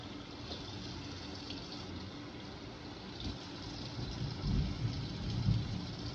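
Water runs steadily and close by, rinsing the bottom of a milk bucket during sanitation. A continuous gushing wash grows a little louder and splashier toward the end.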